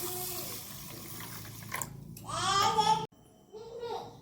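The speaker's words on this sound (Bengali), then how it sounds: "জল দিয়ে দিচ্ছি।" Water poured over a cup of Gobindobhog rice set to soak, a short close splashing pour near the end, with a voice talking over the clip.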